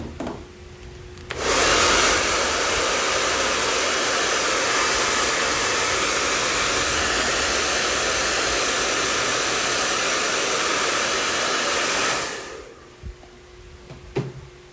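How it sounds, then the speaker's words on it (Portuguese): A handheld hair dryer blows on a freshly painted tin-can flower-shop craft project, a steady loud whooshing roar that switches on abruptly, runs unbroken for about eleven seconds, then cuts off, with no talk. "Deixa eu botar aqui no secador."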